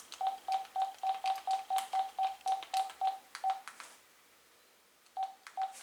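An AT&T CL82301 speakerphone sounds keypad button tones: about thirteen evenly spaced, clear beeps in a quick steady run, a pause of roughly a second, then two more beeps, all close and alone.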